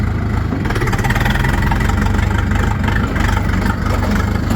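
A DTZ tractor engine runs steadily and loudly up close, a dense low rumble with a faint rise in revs as the machine starts to pull away.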